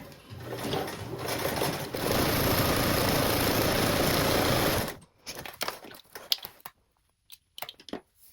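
A sewing machine bastes tote fabric along the raw top edge with a narrow seam allowance, humming steadily for about five seconds before stopping, followed by scattered clicks and handling sounds.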